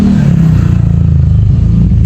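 A motorcycle engine revs up close and loud, a throbbing low-pitched exhaust with a pulsing rhythm that swells and settles over two seconds.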